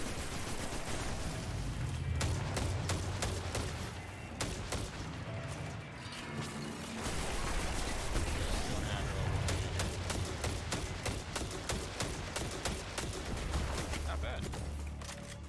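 Rapid gunfire from a weapon in the Warframe video game, bursts of shots repeating through most of the stretch with brief pauses, under a short spoken remark.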